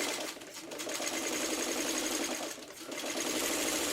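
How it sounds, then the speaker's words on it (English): A sewing machine stitches steadily across a quilt block, its fast needle whir running continuously and close, with a brief slowdown partway through. "And we're just going to sew across."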